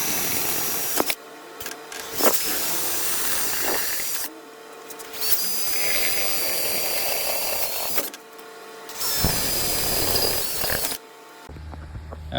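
Bursts of whining power-drill noise drilling holes in metal on a BMW F30, starting and stopping several times with short pauses between runs, close and loud.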